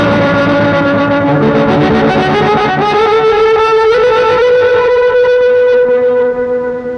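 An electric guitar played through a Maestro fuzz pedal rings out with a thick, saturated, sustained tone, loud and alone, its notes sliding and holding before fading at the end.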